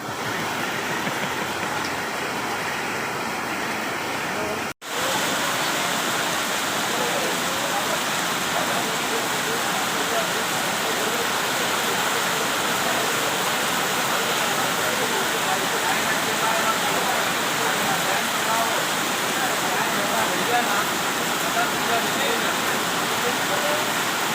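Floodwater pours through a flooded residential colony during heavy rain, making a loud, steady rushing wash that continues for the whole stretch apart from one brief cut early on.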